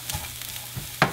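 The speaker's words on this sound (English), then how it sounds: "So you want to cook the cabbage until it begins to soften" Cabbage and carrots cook in a pan with a faint, steady sizzle, broken by a few soft stirring scrapes and a sharper clatter near the end.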